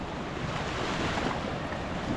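Ocean surf at a provincial beach in the Philippines, steady and moderately loud, with waves washing continuously against the shore under gusty wind; no voices.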